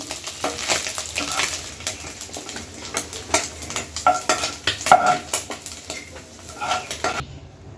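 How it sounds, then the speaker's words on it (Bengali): Small kachki fish frying in oil, a light sizzle under repeated clinking and scraping of a metal spatula against the pan as the fish are lifted out, close and rhythmic, no talk. "কাসকি মাছ সুন্দর করে ভেজে নিয়েছি, এখন উঠাই নিই।"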